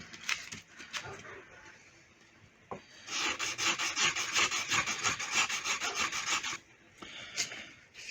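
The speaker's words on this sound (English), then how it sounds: "One of the spindles on my spindle sander is just the right size for sanding in this curved area." A spindle sander works a curved area of a wooden guitar headstock, giving a steady, raspy rubbing hiss that fades in and out, louder in a long middle stretch, fairly close and without talk.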